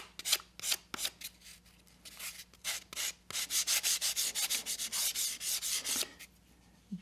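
Sanding stick rubbed back and forth to break the corners of a wooden workpiece, close and clear, with short scratchy strokes at first, then a fast steady run of rhythmic rasping strokes.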